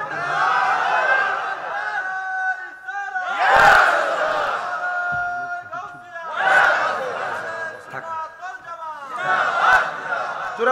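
A sermon crowd shouts a loud takbir in bursts, swelling voices rising together about every three seconds over a reverberant hall.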